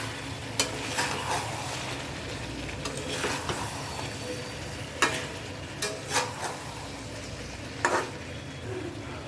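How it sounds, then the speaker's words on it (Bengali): A spoon stirs cut potatoes into a chicken curry in a pan, scraping in irregular sharp strokes over a continuous low sizzle, close and steady throughout. "এবার আমি এখানে 2টো মিডিয়াম সাইজের আলু কেটে নিয়েছি, সেটা আবার দিয়ে দেবো এর মধ্যে। দিয়ে ভালো করে নেড়ে দেবো।"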